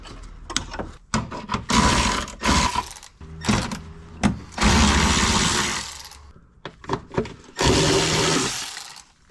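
A ratchet wrench works loose the heat shielding bolts under a BMW E36 drift car, with repeated loud bursts of rapid clicking separated by short pauses, close by and with no talk.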